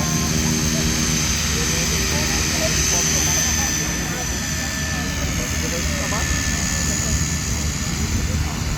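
A fixed-wing airplane flies over the Show Safra 2026 agricultural show in Mato Grosso, its engine a loud, steady roar that holds for the whole stretch, with people talking underneath.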